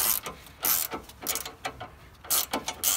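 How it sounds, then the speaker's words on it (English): An 18mm wrench works the nut off a sway bar link during a 2-inch lift install on a Ford Transit, giving repeated metallic ratcheting clicks in short bursts, close and crisp with no speech. "You're just going to hold the bolt portion while you remove the nut portion off the sway bar link."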